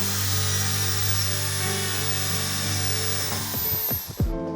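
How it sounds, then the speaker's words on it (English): A power drill polishing bicycle brakes whirs steadily at a high pitch, then slows and winds down abruptly near the end. "we are polishing every single brake which is going out the house with our special drill"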